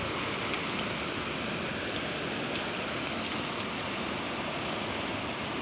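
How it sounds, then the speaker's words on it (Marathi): Heavy rain pours steadily, a dense, even broadband hiss that stays loud and unbroken throughout with no voices over it. "खूपच पाऊस आहे"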